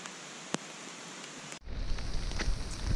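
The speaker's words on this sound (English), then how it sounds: "A nice gentle rain's begun" Gentle rain falls in the bush during a backpacking trip, a soft steady patter with a few louder drops, then a fuller, closer wash of rain.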